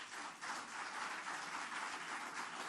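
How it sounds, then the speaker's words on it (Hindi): Audience applause during a televised election interview in Madhya Pradesh, a dense, steady wash of many hands clapping at moderate distance with no break and no talk over it. "तालियां खूब बज रही हैं आपके लिए"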